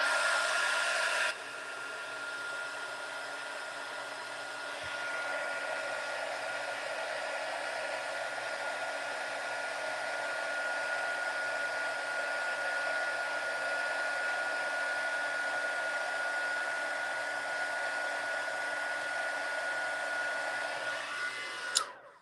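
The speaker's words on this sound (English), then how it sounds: "Then I'm going to melt that powder by blowing that hot air over top." A heat tool blows hot air steadily to melt embossing powder on a red and gold Christmas card, a loud continuous whooshing hiss lasting about twenty seconds with a brief shift near the start and a click as it stops.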